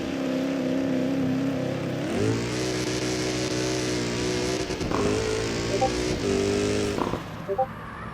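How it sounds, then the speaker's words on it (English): A car in the CarX racing game holding launch control with accelerator and brake pressed together: a loud, sustained engine drone whose pitch climbs and steps up through revs, with brief blips near the end. "line up, press on accelerator and brake at the same time, and you will have launch control"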